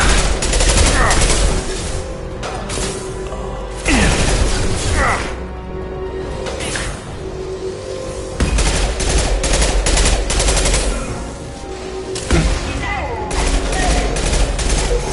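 Mass Effect 2 gunfire: dense, loud bursts of automatic weapons and single shots crackle almost without pause, with sharp impacts and booms layered throughout and voices shouting over the fusillade.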